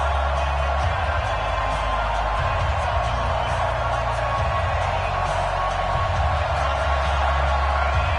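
A large football crowd roars at NRG Stadium in Houston before a Titans–Texans game, a dense continuous wash of cheering and whoops with a commentator talking over it.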